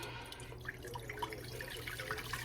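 Ginger detox tea being strained and poured, a soft continuous trickle of liquid with small drips, fairly quiet and close, no talk.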